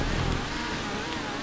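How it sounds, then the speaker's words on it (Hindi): A motorcycle engine in the GTA 5 video game revs loudly and steadily, a continuous close drone with a rumbling low end that holds for the whole moment, with no voices over it. "साली बाइक कहाँ जा रही है"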